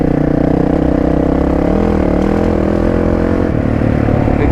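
A Honda CRF motorcycle engine runs loud and close, a dense continuous mechanical drone with a fairly steady pitch and no voices over it.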